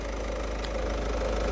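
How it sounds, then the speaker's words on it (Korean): A used Peugeot diesel car idles close by, its engine producing a steady, even chugging with a regular knocking pulse and low vibration. "엔진 소리 좋죠."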